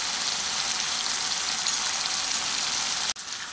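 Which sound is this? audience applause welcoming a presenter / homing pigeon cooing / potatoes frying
potatoes frying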